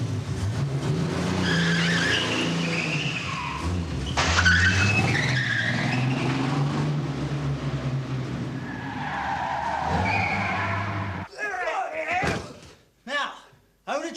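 A car in a Dempsey and Makepeace TV episode skids with squealing tires under dramatic music and engine noise, then several sharp slams and bangs close by near the end.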